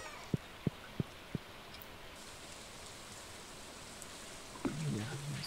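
Rain in the farming video game Stardew Valley makes a soft, steady hiss throughout, with four light taps early on and a voice briefly speaking near the end.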